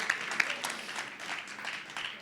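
Scattered applause from a modest audience at a startup launch event, a soft, steady patter of clapping hands heard from a distance with no voices over it.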